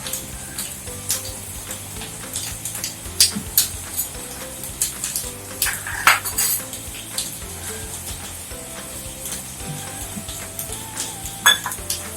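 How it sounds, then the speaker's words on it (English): Curd worked into dough in a bowl, heard as repeated light clinks, taps and scraping knocks of a utensil against the bowl in an irregular rhythm, fairly close but not loud. "for making the dough softer, we'll add the curd, 1 tablespoon curd."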